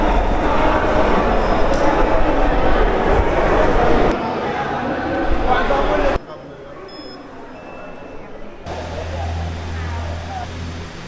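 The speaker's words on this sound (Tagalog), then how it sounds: "We're going to ride a cable car." A rumbling cable car ride in Sapa, Vietnam, with steady mechanical clatter and rolling noise, voices murmuring in the background; the noise drops abruptly partway through, then a low hum returns.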